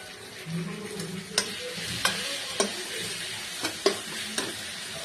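A spoon stirs onion paste into a shidol (fermented fish) chutney in a pan, giving a steady low sizzle with several sharp scraping knocks spaced about half a second to a second apart, close and fairly quiet.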